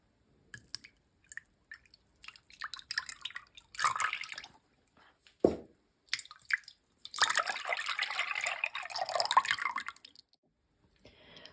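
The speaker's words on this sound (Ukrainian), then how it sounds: "Виливаємо в миску 750 мл вершків." Cream, 750 ml of it, pours into a mixing bowl for a chocolate birthday cake frosting, a wet liquid splash rising and trickling for a few seconds, preceded by scattered clinks and handling noises, with no talking.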